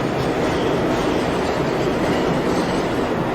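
Subway train in a horror-themed visual novel game, a steady, loud rumbling roar of rolling carriages with faint clattering throughout, continuous and close, with no voices.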